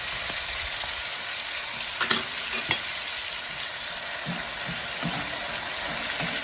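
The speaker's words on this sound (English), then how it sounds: "we're going to saute this up and work on this fawn" Drained jarred mushrooms sauté in a hot pan with a steady, loud sizzle, broken by a few scraping and knocking sounds as they are stirred.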